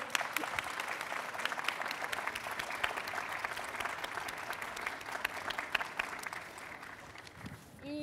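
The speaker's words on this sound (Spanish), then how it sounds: "Por favor, un aplauso." Audience applause fills a book-fair presentation of a women writers' anthology, a dense steady patter of many hands that holds for several seconds before thinning out near the end.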